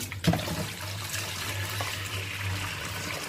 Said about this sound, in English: run in some cold water